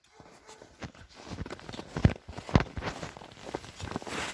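A horse walks on hard ground at a horse sale, hooves clip-clopping in an uneven rhythm of close knocks, two of them sharp and loud, against steady outdoor background noise.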